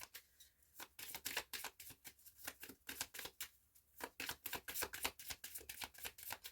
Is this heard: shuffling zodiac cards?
yes